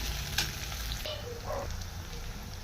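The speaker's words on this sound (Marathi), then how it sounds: "कोथिंबीर येथे छान भाजून घेणार आहे" Chopped coriander fries with onion and tomato for dal tadka, giving a close, steady sizzle with a brief stirring scrape and no talk.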